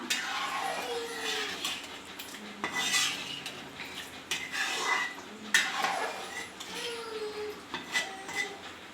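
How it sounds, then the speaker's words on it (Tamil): Stirring tamarind extract into kuzhambu in a pan, with repeated scraping and clinking of a metal spoon against the vessel in uneven strokes, close and fairly steady, with no talk. "புளிக்கரசில் ஊற்றிக்கலாம் ஊற்றி நல்லா கிளறி விட்டுக்கலாம்"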